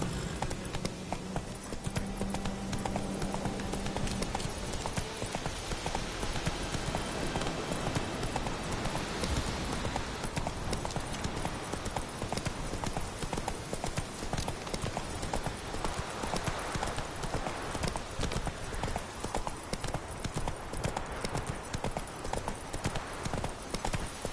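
Roach, a horse in The Witcher 3, galloping with steady rapid hoof clip-clops throughout, loud and close over a busy game soundscape, with a faint whinny and occasional voice.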